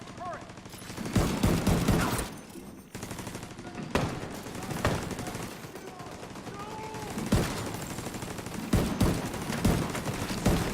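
A turret in The Division 2 fires repeated bursts of rapid gunfire, loud and close, with several sharp blasts spread across the stretch and some speech mixed in.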